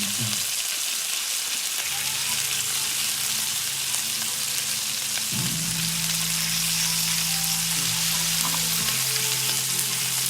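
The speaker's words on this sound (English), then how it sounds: "We're gonna let that cook for a little bit more." Hennessy glazed chicken frying in a pan, a loud continuous sizzle close up with background music humming underneath throughout.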